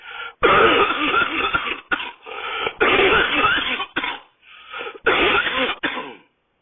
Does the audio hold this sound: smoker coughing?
yes